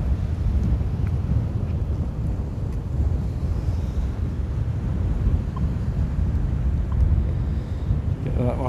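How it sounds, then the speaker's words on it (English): Wind blows hard across a wet-sand beach, a constant low buffeting roar with microphone rumble and distant surf, steady throughout, with a faint voice briefly under it. "It's quite windy today."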